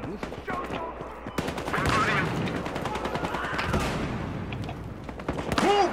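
Rapid gunfire rattles in a video game shooting match, with sharp bursts and single cracks layered over game noise. Someone talks excitedly throughout.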